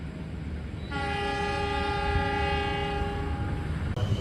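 KA Lodaya passenger train departing Klaten station, its horn sounding as a long, loud, steady harmonic blast of about three seconds over a rumbling background of rail noise.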